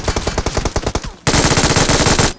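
Machine gun fire in a mobile battle royale game, two loud close bursts of rapid rhythmic shots separated by a brief pause.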